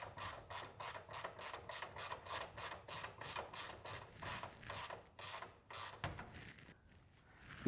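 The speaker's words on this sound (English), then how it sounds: "Let's see if we can break them loose first with the breaker." Breaker bar working loose 16 or 17 millimeter bolts on a BMW E36 M3, giving a fast run of loud ratcheting clicks that stop, followed by a quieter creak and rub of the tool.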